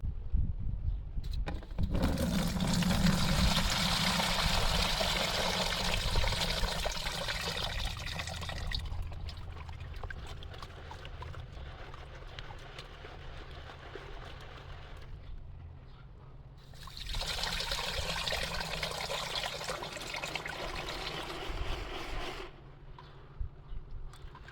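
Muddy water for low-fire pottery clay trickles and pours through classifier screens into a bucket, a steady splashing wash that drops briefly mid-way, then resumes before fading.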